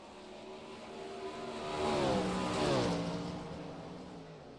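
Race cars roar around the racetrack, their engines swelling loudly as they pass close by midway through, then easing off slightly while still revving hard.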